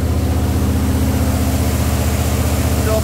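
The engine of a Jeep CJ5 runs steadily at raised RPM during break-in, a continuous low rumble with a regular pulsing beat, close and unbroken.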